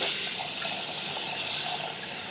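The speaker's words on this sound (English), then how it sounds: "Wash the rice with cold water" Cold tap water runs steadily over rice being rinsed in a sink, a close, bright, continuous hiss and splash with no voices.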